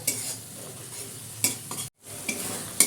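Lote fish curry with onion and tomato sautés in a pan, a steady close sizzle with stirring scrapes and a few sharp clinks, broken by a brief silent gap near the end.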